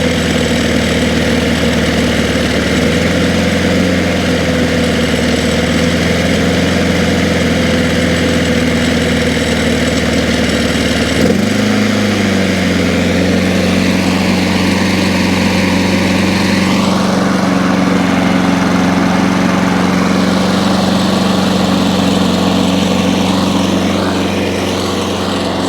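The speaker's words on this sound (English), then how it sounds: "as you can already hear, that lawnmower now is running approximately right" A lawn mower engine runs steadily after its governor arm is bent to raise the RPM. It is a loud, close, continuous drone whose pitch shifts upward in steps as the speed settles.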